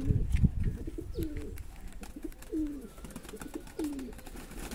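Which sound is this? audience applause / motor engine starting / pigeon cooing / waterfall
pigeon cooing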